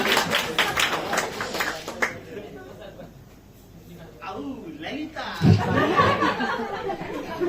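A room of attendees at a National Doctors' Day gathering gives a loud round of clapping to welcome an arriving guest, the applause swelling after a brief lull, with chatter and some laughter among the crowd.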